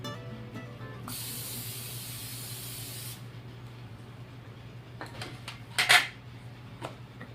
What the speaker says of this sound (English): Spray it with Pam.